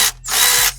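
A socket ratchet wrench works a sway bar link bolt on a 2012 Chevy Impala, giving two short, close, loud bursts of rapid clicking separated by a brief pause.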